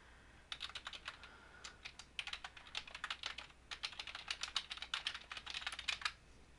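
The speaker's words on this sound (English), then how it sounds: "This is where you would type in the name of the site that you want to add to your Webmaster Tools dashboard." Quick, steady typing on a computer keyboard as a website name is entered, with close, light key clicks in rapid bursts separated by short pauses.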